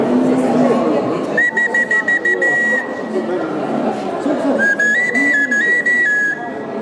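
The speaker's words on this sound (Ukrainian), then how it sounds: "А це були такі простенькі, простенькі свищі. один-два голоси." Shrill, simple notes from a Ukrainian svyshchyk folk whistle sound in short repeated toots and a wavering higher line, heard over a noisy crowd with chatter at a Montreal art museum exhibition.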